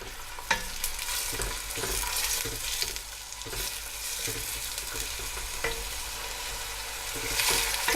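Onions fry in desi ghee, giving a steady, close sizzle with scraping stirs and occasional sharper spatula taps, no voices.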